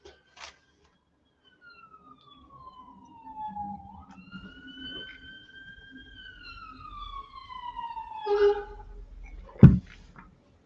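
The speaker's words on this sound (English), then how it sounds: "Fire engine." Fire engine siren wailing in long rising and falling sweeps, moderately distant over faint traffic, ending with a loud close thump.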